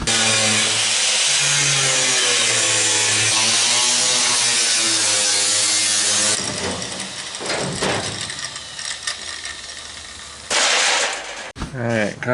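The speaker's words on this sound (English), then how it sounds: "So now it's time to cut the new seam here." Power cutting through a sheet-metal body seam on a lower rear quarter panel of an airport limousine, a loud continuous whining buzz for about six seconds, then rougher intermittent cutting bursts with short pauses.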